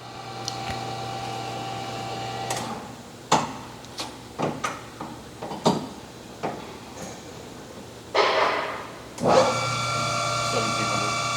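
A Trak TRL1440EX CNC toolroom lathe runs with a steady hum while its carriage traverses along the Z-axis, broken by sharp clunks and whirring motion bursts before the drive hum resumes, close and without talk.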